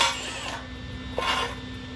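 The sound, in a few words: drill drilling holes in truck body metal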